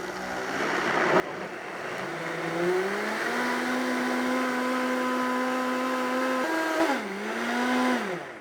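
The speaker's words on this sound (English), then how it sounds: "And I'm just gonna blend it." A blender whirs through a no-oil sauce, a loud steady motor drone whose pitch climbs as it spins up, holds, then dips and recovers near the end; no voices.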